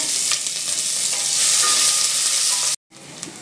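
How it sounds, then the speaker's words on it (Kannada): Finely chopped onions hit hot oil with a loud, close, continuous crackling sizzle. It cuts out abruptly for a moment near the end, then resumes more quietly. "ಈರುಳ್ಳಿನ ಸಣ್ಣಕ್ಕೆ ಹಚ್ಕೊಂಡಿರೋದನ್ನ ಹಾಕೊತಿದ್ದೀವಿ. ಒಂದು ಈರುಳ್ಳಿ ಕೆಂಪಗೆ ಫ್ರೈ ಆಗಬೇಕು."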